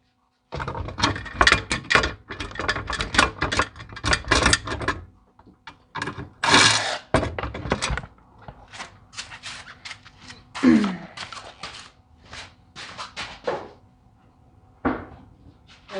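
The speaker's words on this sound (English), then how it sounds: "Surprisingly, these screws are coming out pretty easy." Screws being backed out of the rack on a 1998 Polaris Xpress 300 ATV, giving close, busy clicks and scrapes of metal and tools in dense bursts, with quieter pauses and scattered handling knocks.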